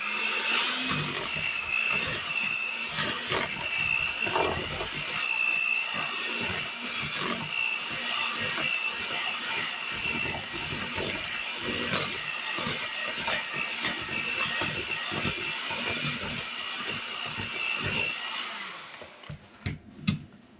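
Electric mixer beating brown sugar cookie dough, a steady, close whirring hum with gritty scraping that runs nearly twenty seconds before cutting off, followed by a few clanks.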